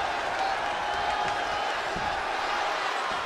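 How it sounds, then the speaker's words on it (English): A large crowd roaring and cheering in a wrestling arena during a WWE Monday Night RAW broadcast, a loud dense wash of noise with a commentator's voice running over it. "I don't recall the last time I heard a Cohasset crowd this loud."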